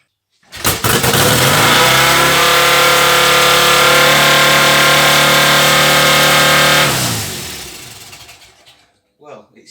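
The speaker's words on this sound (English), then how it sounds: "I'm just going to see if we can start it with the electronic ignition." A BSA motorcycle engine with electronic ignition catches and runs loud and steady close by for several seconds, then winds down and dies away; it has a throttle problem and has shaken some bolts loose.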